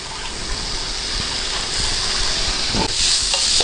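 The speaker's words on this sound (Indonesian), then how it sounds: "Kita aduk sampai rata." Vegetables with soy sauce are stirred in a frying pan, giving a loud, continuous sizzle with scraping and splashing bursts toward the end, no speech.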